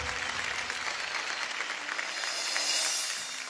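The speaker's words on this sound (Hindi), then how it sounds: "शोएब के लिए जोरदार ताली" Audience applause for Shoeb after his performance, a dense steady wash of clapping sustained throughout, fairly loud and even with no voices on top.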